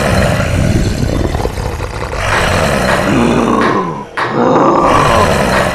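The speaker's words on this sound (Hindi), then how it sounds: "तभी गुर्राने की आवाज और तेज हो जाती है।" A loud, rough growling and grunting rumbles on steadily from inside a gas cylinder, close and forceful, with a brief dip partway through before it resumes.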